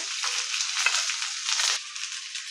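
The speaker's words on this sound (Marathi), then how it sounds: "मस्त असा कांदा आपल्याला तेलात तळला पाहिजे." Onion frying in leftover oil from roasted coconut gives a bright, loud, unbroken sizzle up close that swells and dips slightly as it is moved around the pan, with no talking.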